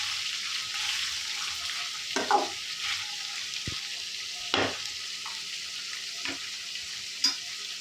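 Lemon rice is stirred in a pan over a low sizzle. A few distinct scraping knocks of the spoon stand out at irregular intervals against the steady frying hiss.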